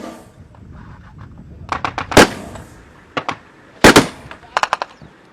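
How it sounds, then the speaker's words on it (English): Gunfire from Islamic State fighters during the battle for Mosul, Iraq: several sharp cracks and short bursts at irregular intervals, loud and close, with a few spaced single shots between them. "which is sound of sniper fire or certainly gunfire coming in from Islamic State"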